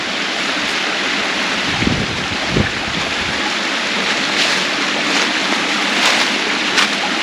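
A waterfall along a trail at Prompton State Park pours in a constant, loud broadband rush with no letup, with a couple of faint thumps beneath the steady roar.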